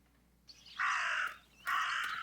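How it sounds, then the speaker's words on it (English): Two loud, drawn-out raven caws ring out in the horror video game Martha is Dead, each harsh call lasting about half a second, separated by a brief pause and heard alone without talk. "That raven is making a big fuss."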